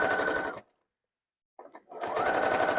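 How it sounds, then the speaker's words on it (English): A sewing machine quilts a stand mixer cover in two loud, fast, steady bursts of stitching, separated by about a second of silence and a few short clicks. "This is basically how I quilt, guys."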